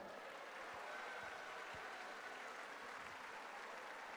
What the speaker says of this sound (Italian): Facciamo un grande applauso a Paolo Del Debbio.